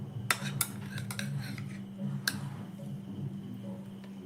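Two spoonfuls of sour yogurt go into a bowl for chutney, with a few sharp metal spoon clinks against the bowl early on, then softer scraping under a low steady hum.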